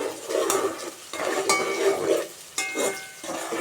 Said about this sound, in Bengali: এখন আমি পেঁয়াজে লবণ দিয়ে দিব, যাতে পেঁয়াজগুলো তাড়াতাড়ি উনিয়ে যায়